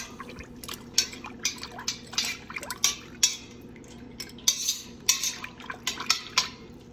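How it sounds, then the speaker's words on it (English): A utensil stirs tea egg solution in a pot, giving repeated close clinks and liquid swishes in an irregular rhythm. "I just give it a stir before I put all the eggs in"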